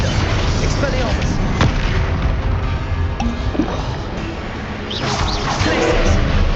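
Confringo fire-spell explosions in Hogwarts Legacy combat: loud, dense booms and crashing blasts follow one another with hardly a break, with a fresh surge of impacts near the end and no speech.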